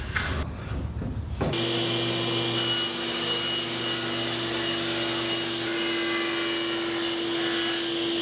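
A table saw rips a strip of wood for the top of a clamp rack: the blade winds up briefly, then a steady, loud whine holds under the cut with a constant hum, no talking.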